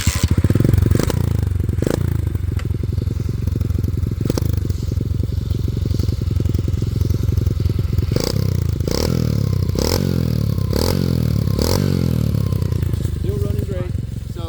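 A rebuilt X-Pro Storm 125cc motorcycle engine runs steadily with loud, rough clattering and scraping, a few sharp revs and thumps near the end, while a voice talks over it throughout.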